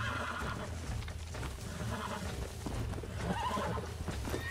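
Horse neighing in the video game Red Dead Redemption during ranch taming, a whinny with clip-clop hooves and rumbling game ambience underneath.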